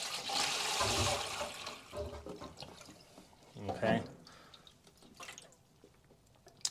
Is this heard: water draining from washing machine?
yes